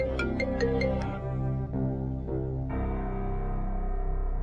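A mobile phone rings with an incoming call: a melodic ringtone plays a few bright, quick notes, then settles into sustained tonal phrases that carry on clearly and alone, with no speech.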